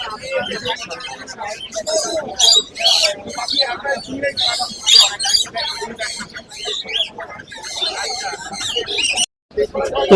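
A busy bird market at Mirpur 1, Dhaka, full of caged birds and chickens, with bursts of chirping and clucking mixed into crowd noise while someone talks loudly up close over most of it.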